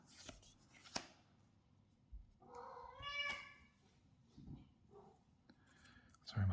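A pet cat meows several times close by, short plaintive calls between soft clicks and rustles of trading cards being handled, with a quiet voice speaking briefly.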